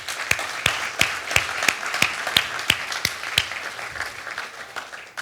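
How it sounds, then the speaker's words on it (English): Church congregation giving a round of applause for the setup and teardown teams, moderate mixed clapping with a few sharp, regular individual claps standing out near the front before it thins and fades. "please join with me in a round of applause for the teams"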